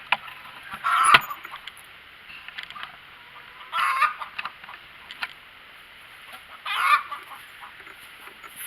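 Homestead chickens kept alongside a Juliana pig in a muddy yard. Three separate bursts of clucking and squawking stand out against a quiet background.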